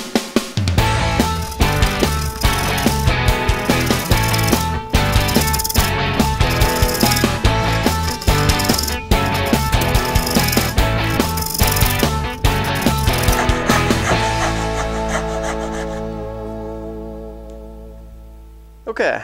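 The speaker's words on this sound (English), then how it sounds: "I'm going to quickly cut down my scribe lines here with the dovetail saw." A dovetail saw cuts down scribe lines for dovetails in a woodworking shop. Dense, rapid, rhythmic rasping strokes continue steadily and close by, then fade out near the end.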